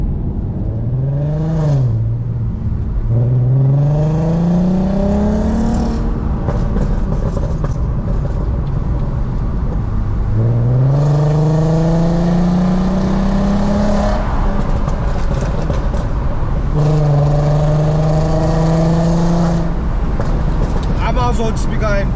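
A 2005 Volkswagen Golf R32 Mk5 accelerates hard through several gears, a trumpet-like note from about 2000 RPM rising sharply in each pull before dropping at the shift, loud and close.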